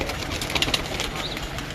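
Pigeons kept by a breeder in a loft coo softly amid a busy background of rustling, wing flutters and ambient noise, with faint short calls rising briefly over the steady din.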